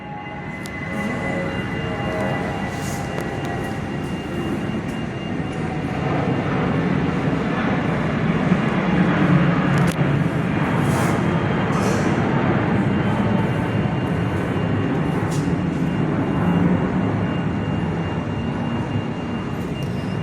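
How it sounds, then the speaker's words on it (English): Qantas Airbus A320 taking off at Perth, heard from an indoor viewing platform as a broad, building jet roar that swells after a few seconds and holds strong, with faint clicks and rattles nearby. "And up goes Qantas A320."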